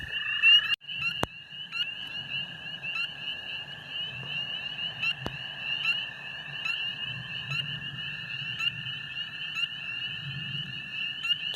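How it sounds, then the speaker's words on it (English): Spring peeper frogs calling at night in early spring, a dense chorus of high, piercing peeps that rings steadily over a faint low background rumble, with a couple of sharp knocks near the start. "You guys just spotted our first spring peeper of the evening right here."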